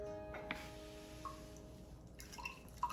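Faint, sparse drips of water from a squeezed rag patter at irregular moments against a quiet, humming room.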